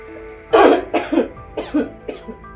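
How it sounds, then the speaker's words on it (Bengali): A person coughs close by in a run of four harsh, loud coughs, with the first the strongest and the rest fading slightly. "কাশি তো একটা আমার লেগে আছে কদিন থেকে"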